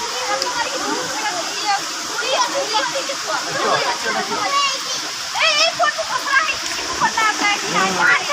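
The Devkund waterfall roars steadily and loudly, with splashing, rushing water filling the whole stretch while children and adults chatter over it.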